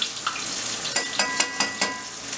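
Panko-coated chicken pieces frying in oil for a chicken sandwich, giving a continuous crackling sizzle with a few louder pops and spatters close by.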